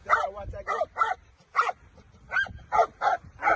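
A dog barks repeatedly during bite and aggression training. The sharp, loud barks come in an uneven rhythm of about eight close bursts, with a few yips and whines mixed in.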